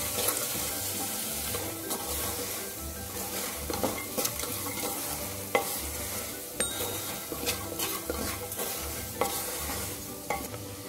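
Peanut masala rice stirred and frying in a pan with turmeric and salt, a steady close sizzle broken by scraping stirs and small clinks, no voices.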